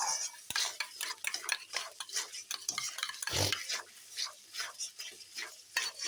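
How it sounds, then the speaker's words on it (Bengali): Ground spice paste for chicken curry being stir-fried in a pan, with a steady stream of close scraping and clinking spatula strokes against the metal over a soft sizzle, no voices. "বাটা মশলা দিয়ে ভালো করে কষিয়ে নিচ্ছি"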